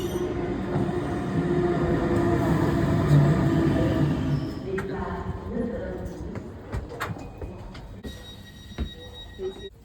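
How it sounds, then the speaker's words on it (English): A Swiss train rumbles into a station and slows, wheels and brakes grinding and squealing before it settles to a halt, with clicks and hisses following. "Here comes a train."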